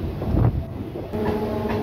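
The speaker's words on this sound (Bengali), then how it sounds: "তো আমাদের ট্রেন যাচ্ছে" A late-running local train on the Howrah–Tarapith line moving along near Masagram, a steady broad rumble with a continuous high hiss over it, close and fairly loud, with no voices.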